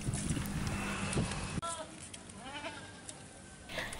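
Sacrificial goats kept for sale in Bangka, Bangka Belitung, bleat close by, with a rising quavering call in the middle. A rumble of background noise and handling sounds surrounds them.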